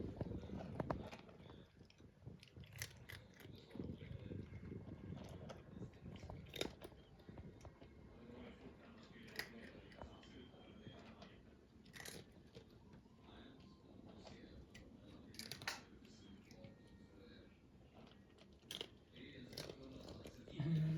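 An orange cat crunches dry treats, with quiet, irregular crisp bites and chewing close by, and someone talks softly over some of the crunching.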